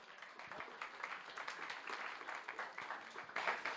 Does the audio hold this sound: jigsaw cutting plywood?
no